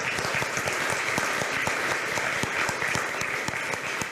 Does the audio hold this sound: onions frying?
no